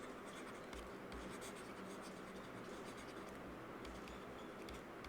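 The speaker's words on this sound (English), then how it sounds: "I'll write opening stock of goods." Pen scratching steadily across paper while a statement is handwritten, a faint continuous rasp with small rhythmic strokes.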